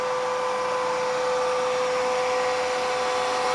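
Bissell TurboClean 3548 wet dry vac running, its motor a steady close whirring drone with a sharp, constant high tone on top, unbroken and without talk.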